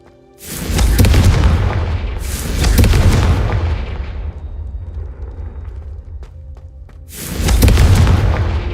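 Confringo blasting spell explosions in the Hogwarts Legacy video game: three heavy booming blasts, loud and close, each with a deep rumbling tail, the first two close together and the last after a quieter pause.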